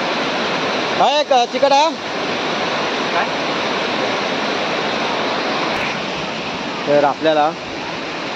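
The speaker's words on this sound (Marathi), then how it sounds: "असा मोठा धबधबा आहे इकडे." The large Kondi waterfall roars as a steady, loud broadband rush throughout, with people briefly talking over it near the start and again near the end.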